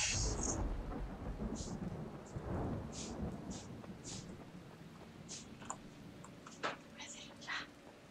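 Rain and thunder in the video game Dying Light, a low rumbling roll under a soft wash of rainfall, with scattered whispery voice sounds over the top.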